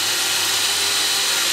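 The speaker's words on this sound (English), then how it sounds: "just drilling a small pilot hole to start with" A power drill drilling a small pilot hole in a Suzuki Jimny JB74 roof rack whirs steadily at high pitch, close and loud, running without a break.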